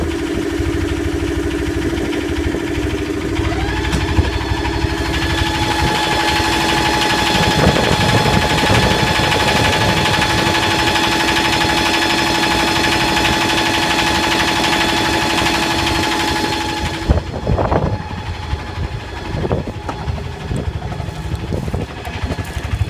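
A Yanmar SB12 marine diesel on a sailboat runs steadily in gear, a loud constant hum and rattle under load that holds for most of the stretch before the engine note drops abruptly near the end.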